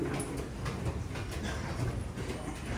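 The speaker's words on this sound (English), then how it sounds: "It's bedlam in this train station" Busy train station in Italy, a steady, dense wash of crowd murmur and rail noise with carriages rumbling and clattering throughout, fairly close and continuous.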